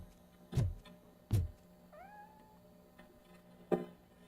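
A cat meows once, short and thin, in the video game Robocop Rogue City. It sits between a few dull thumps over a quiet background hum.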